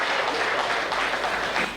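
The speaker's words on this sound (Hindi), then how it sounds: "अरे आई तो जरा तालियों से बताओ कि समझ में आई।" Audience applause at a Hindi comic poetry gathering, a short dense burst of crowd clapping that stays even and fairly loud throughout.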